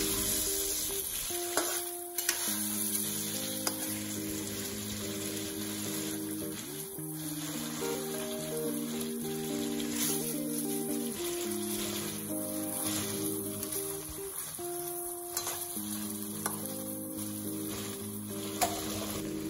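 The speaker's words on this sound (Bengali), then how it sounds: "মাছটা দিয়ে আরেকটু কষিয়ে নেব।" Fried fish sautéing in a spice paste with turmeric, giving a steady close sizzle with frequent soft stirring scrapes throughout.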